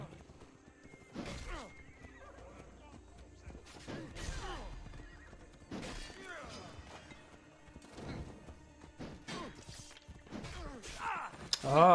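A horse in Assassin's Creed Odyssey whinnies several times between bursts of clattering hooves, moderately loud, with some thuds and a voice talking over it.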